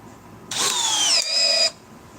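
A cordless power drill driving a screw, a loud whining motor burst of about a second with a brief dip in pitch midway, then stopping, with no talk.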